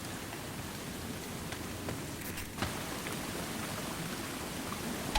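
Steady rain in the video game Republique, a soft, constant hiss of falling drops in a moonlit outdoor setting, fairly faint and even throughout with no talk.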